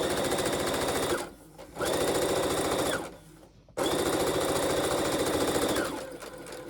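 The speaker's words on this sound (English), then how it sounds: "I'm just going to go forward and back just to secure your stitches" A sewing machine stitches forward and back in three loud, close bursts of rapid rhythmic clatter, separated by short pauses where the motor stops.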